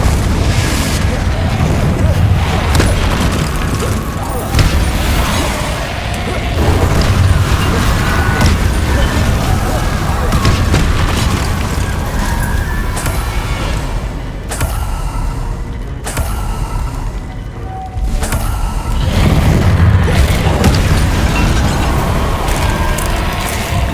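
Confringo blasting spells explode in the Hogwarts Legacy video game, a steady run of booming blasts and mechanical clatter amid dense game sound effects, with voices shouting spells throughout.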